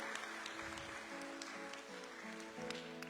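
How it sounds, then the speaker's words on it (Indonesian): Church congregation at a New Year's Eve service applauding, a faint, steady patter of many hands clapping with quiet sustained tones underneath. "Kasih tepuk tangan yang meriah buat Tuhan kita Yesus Kristus."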